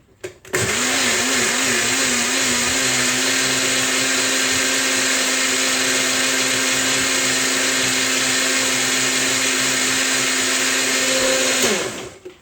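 Blender whirring through a vitamin smoothie, starting abruptly with a brief wavering pitch as it spins up, then a loud steady motor whine with chunks rattling inside, running about eleven seconds before cutting off, with no talking.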